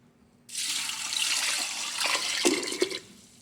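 Water gushes into a pressure cooker for moringa dal soup, starting abruptly and pouring steadily for about two and a half seconds, close and fairly loud, with a few clunks before it stops.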